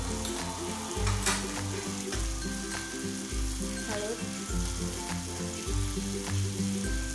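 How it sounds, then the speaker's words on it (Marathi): Tomatoes with salt and spice powders fry in oil for a cabbage bhaji, a loud continuous sizzle and crackle up close, with a rhythmic low thudding underneath and occasional clinks. "मीठ टाकल्यानंतर आपल्याला टोमॅटो तेलामध्ये परतून घ्यायचं आहे"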